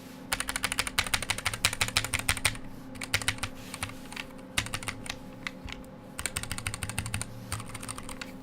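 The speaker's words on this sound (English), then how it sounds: "here's the sound, in case you guys are interested in that. Like, it's super rattly." A rattly custom-built Iris mechanical keyboard is typed on in rapid bursts of clacky keystrokes, close and loud, with short pauses between runs.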